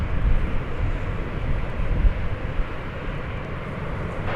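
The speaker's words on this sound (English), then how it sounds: "an Airbus A321, flight 1969, is on its way to" Airbus A321 jet airliner at Dallas–Fort Worth airport, a steady broad engine roar of moderate loudness holding throughout with no voices.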